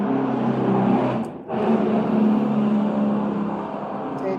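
A truck passing close by on a road, a loud broadband engine and tyre roar that dips briefly partway through and then swells again before slowly fading, with no talk over it.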